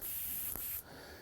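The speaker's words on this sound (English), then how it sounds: "And spray out the leftover," An airbrush blasts out leftover candy-color paint in a steady, close hiss that cuts off sharply partway through, leaving a softer trailing hiss.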